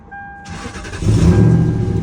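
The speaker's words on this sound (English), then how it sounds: "And listen to this V8." A 1990s German car's V8 engine fires up and settles into a deep, loud rumble close by, with no talking.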